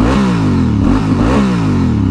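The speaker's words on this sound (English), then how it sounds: "I mean, it revs right up, no problem." A Honda Africa Twin motorcycle engine revs steadily up and down, loud and close, with a rough mechanical clatter throughout and no voices.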